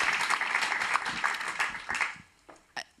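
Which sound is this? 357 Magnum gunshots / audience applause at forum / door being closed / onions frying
audience applause at forum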